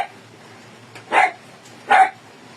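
A pet dog named Shelo gives two sharp barks about a second apart, fairly close and loud, with quiet background between them and no talk.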